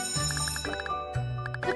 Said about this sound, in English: The bell has rung.